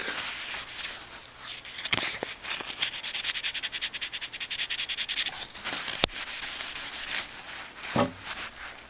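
Steady rhythmic scraping of sandpaper over a hard painted panel of a Hallicrafters SX-28A radio, close and continuous, with a few sharp clicks and knocks along the way.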